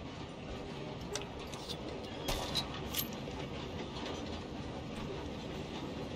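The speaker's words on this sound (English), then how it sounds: "We have to stop this train." A steam train rolls along in the video game Red Dead Redemption 2, a constant low rumble of wheels with a few sharp metallic clanks and clicks breaking through at moderate loudness.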